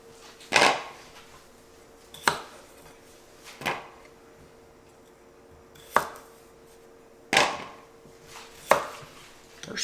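A knife slices washed potatoes and carrots in half on a cutting board, six sharp separate chops spaced a second or two apart against a quiet kitchen background.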